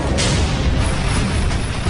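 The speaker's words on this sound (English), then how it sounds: "We engage them with tank main gun rounds. You see the explosions going off." Tank main gun rounds exploding in the southern Iraqi desert, a dense continuous rumble of loud booms and blasts that fills the whole stretch with no quiet gaps.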